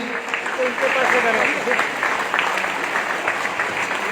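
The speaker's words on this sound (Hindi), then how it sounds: "तालियां तो रुकनी नहीं चाहिए" Applause from an audience at a stage event carries on, a thick steady patter of clapping hands, while someone speaks loudly over it.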